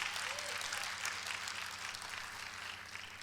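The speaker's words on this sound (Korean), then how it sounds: "박수 칠 준비해봐요" Steady applause from a crowd, fairly soft and continuous throughout, with no voices standing out.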